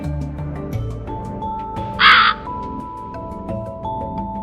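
A single sharp crow caw rings out clearly over gentle background music in an animated children's story about a thirsty crow.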